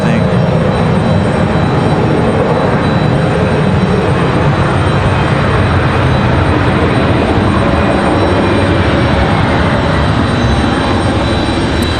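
Airliner departing on the runway at Raleigh-Durham International Airport, a loud steady broadband engine roar that holds for the whole stretch with no break, heard close to the runway edge.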